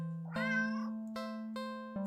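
A cartoonish cat meows inside a video game, one drawn-out meow followed by steady tonal game music with repeated note onsets, clear and close with no talking.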